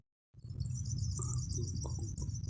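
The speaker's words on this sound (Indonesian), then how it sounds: "Burung udah datang," Java sparrows chirp and call near a net trap, a steady run of high, bright twitters over a low background hum after a brief silent start.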